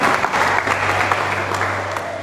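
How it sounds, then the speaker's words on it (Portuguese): Church congregation applauding during a Portuguese-language family worship service, steady sustained clapping filling the room at a moderate level with no voices over it. "Aplauda o nome do Senhor."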